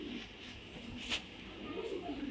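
Racing pigeons coo softly in a loft, low murmuring calls under steady room noise, with one brief sharper sound midway.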